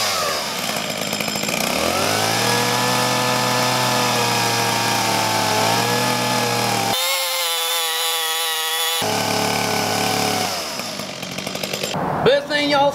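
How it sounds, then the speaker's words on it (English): A chainsaw carving a Halloween pumpkin runs steadily with a droning whine, cutting out briefly midway before roaring back, with some rattling at the end. "Next thing y'all's gonna need is a chainsaw."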